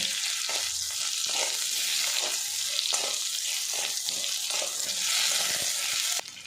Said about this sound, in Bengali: আলুটা আমার ভাজা কমপ্লিট হয়ে গেছে